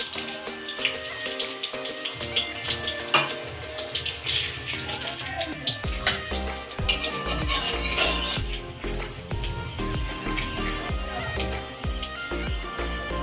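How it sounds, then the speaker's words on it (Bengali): Whole cumin, dried red chillies, a bay leaf and whole garam masala sizzle and crackle hard in hot oil for Bengali egg curry, a dense close hiss with light clinks of a utensil against the pan. "গোটা গরম মশলা ফোড়নে দিয়ে দেবো।"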